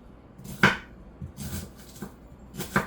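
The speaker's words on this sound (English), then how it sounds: "let me cut some slices of onions now" Knife chopping through onion slices on a cutting board, a few sharp separate cuts spaced irregularly, close and fairly quiet against light kitchen background noise.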